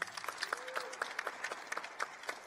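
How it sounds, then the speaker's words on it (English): Scattered applause from a modest audience, rapid overlapping claps at a steady moderate level, somewhat distant. "give her a round of applause"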